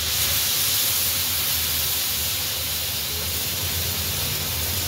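Water poured into a hot, spiced paneer mutter gravy sets off a loud, steady broadband hiss of steam that holds without break throughout.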